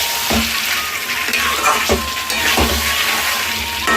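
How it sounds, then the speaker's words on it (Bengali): Meat sizzles loudly in a hot pan in a village kitchen while being stirred, a steady close frying hiss broken by periodic scraping stirs, with no talking. "আমি মাংসটা কষিয়ে নিচ্ছি"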